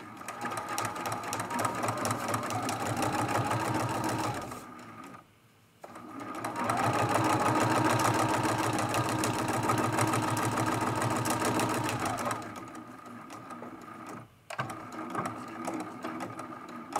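A sewing machine stitches down lines on a lamp post art quilt, running in a steady fast whirring hum with two brief pauses between runs, close and continuous.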